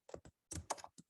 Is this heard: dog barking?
no